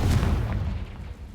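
A Confringo spell explosion in Hogwarts Legacy, a single deep, loud boom that rolls off into a fading rumble, with no voices over it.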